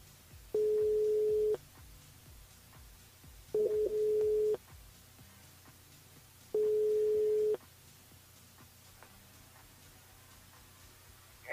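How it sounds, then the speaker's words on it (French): A telephone line rings as a radio show calls a listener in Saint-Denis: three steady, evenly spaced tones about a second long, moderately loud over quiet background noise. "on appelle Carole du côté de Saint-Denis"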